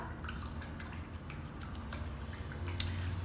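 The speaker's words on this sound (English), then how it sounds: "wash your brush up." A paintbrush swished and rinsed in a water container during an acrylic seascape painting session, giving soft repeated drips and light splashes over a steady low background hum, close and fairly quiet.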